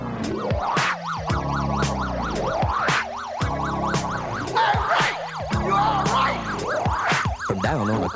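A police siren wails in repeated rising and falling sweeps, woven through a loud punk rock song with pounding drums and distorted guitars.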